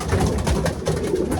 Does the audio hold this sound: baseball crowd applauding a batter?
no